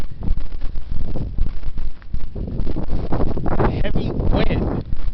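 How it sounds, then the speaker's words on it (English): Heavy wind buffeting a microphone outdoors, a loud continuous rumbling roar with gusty surges and dips throughout. "Heavy wind."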